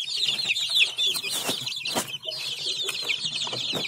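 Hungry chicks and hens at a farm pen before feeding fill the air with dense, high chick peeping and overlapping clucks, continuous and close, with occasional sharper calls.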